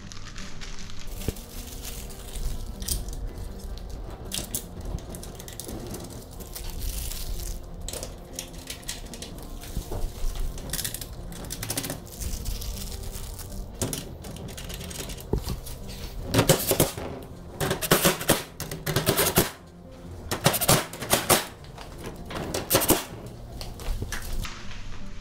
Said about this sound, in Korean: 해당 부분과 가끔 모서리 부분을 볼트 조립을 진행하겠습니다.